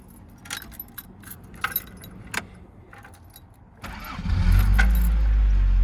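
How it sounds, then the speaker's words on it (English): Keys jangle softly at close range before a 1986 Toyota MR2 GT engine cranks and fires, settling into a loud, steady low rumble. "But go ahead and start it."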